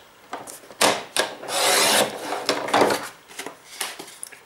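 Paper card being cut to size for a stamped card, heard as a few close scraping and rubbing strokes with one longer steady swipe in the middle, with no talking.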